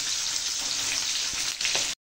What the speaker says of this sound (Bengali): পেঁয়াজ, কাঁচা লঙ্কা আর গাজরটা আমি প্রথমে একটু ভেজে নেব।